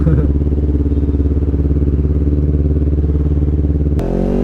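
Motorcycle fitted with an aftermarket exhaust runs steadily, a loud, deep, rhythmic engine drone close to the rider, with a sudden change in tone near the end.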